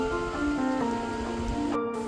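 Steady rain falls with a continuous patter of drops, mixed with sustained tonal hums and faint rhythmic tapping in the background.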